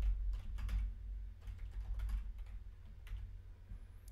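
Someone types a password on a computer keyboard while setting up a content management site: quiet, rapid keystrokes in short uneven bursts, close and soft, with no talking.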